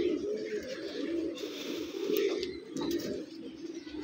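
Pigeons cooing steadily in low, rolling calls, several overlapping, fairly close and moderately loud.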